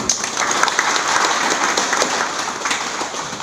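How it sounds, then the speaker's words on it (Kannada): A crowd at a gathering at a religious math applauds steadily, a dense, even wash of many hands clapping with no break, fairly loud and close. "ಚಪ್ಪಾಳೆ ಹೊಡ್ರಿ ಮೊದಲು"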